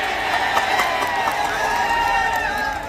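Crowd at a village wrestling match clapping and cheering loudly in a dense, continuous roar of voices and claps, close and sustained throughout.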